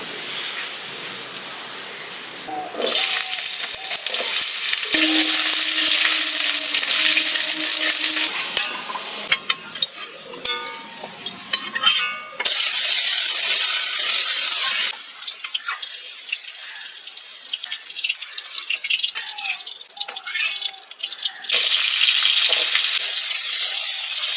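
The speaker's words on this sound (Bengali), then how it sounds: "আমি কড়াইতে এখন সাদা তেল দিয়ে দিচ্ছি," Potatoes frying in white oil in a wok for a khichuri meal: loud, broadband sizzling hiss that comes in sustained bursts with a few clattering knocks between them, and no voices.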